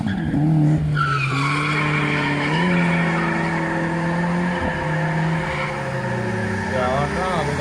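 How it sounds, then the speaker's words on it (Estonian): A rally car slides and spins across a gravel area during a rally superfinal, its engine wailing in long sustained tones that rise and fall, with a commentator talking over it. "Ja on näha, kuidas Talmer maadleb autoga ja pargib ennast ära veidi tagasi pöördesse."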